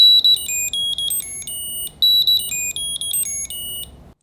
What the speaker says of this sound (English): If you leave them behind, it alerts you, and you can do all the features such as make it ring. You can press a button and they will ring.